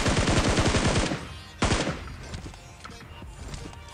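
Rapid automatic gunfire from PUBG Mobile gameplay, a fast loud burst of shots for about a second, then a single sharp shot followed by fading echoes and quieter scattered sounds.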